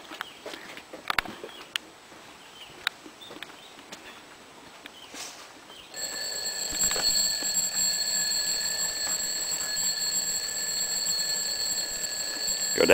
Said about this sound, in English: I think the alarm still works